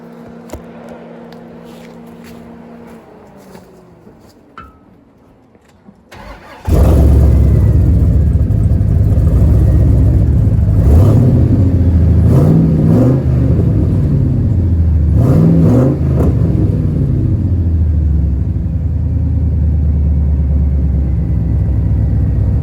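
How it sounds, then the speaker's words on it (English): After a few quiet seconds, an 8.1 Vortec truck engine with a quiet custom exhaust starts and settles into a deep, steady idle, rising through several smooth revs nearby. "that's the quietest and probably the best sounding this truck's ever been"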